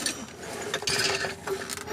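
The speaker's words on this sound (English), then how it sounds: "Give me a ratchet?" A ratchet wrench clicks in short bursts while someone works under a BMW E63 645Ci, fitting the center support bearing, guibo and transmission mounts; the clicking is close and brief.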